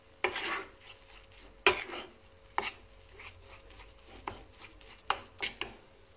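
Roasted flour being stirred into cold milk in a pot for Turkish milk halva, with sharp spoon scrapes and knocks arriving in irregular bursts, loud and close, separated by quieter gaps and no talking.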